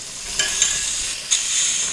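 Fish pieces dropped into a pot of boiling curry for an Assamese boiled fish dish with taro and tenga mora leaves, giving a few soft splashy stirring bursts over a steady bubbling hiss.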